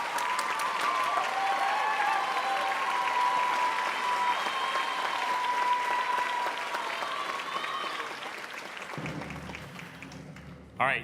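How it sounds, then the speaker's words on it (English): Audience at a Broadway San Diego awards show applauding, a dense sustained wash of clapping and cheering that carries on for several seconds before fading as a voice begins. "So please hold your applause until we say both names."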